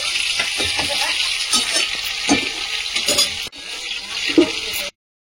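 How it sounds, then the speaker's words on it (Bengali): Vegetables sizzle steadily in a pan on a gas stove while a utensil stirs them with irregular scrapes and knocks, ending abruptly in silence. "আর ঢাকা দিয়ে দেবো একটু নেড়ে চেড়ে"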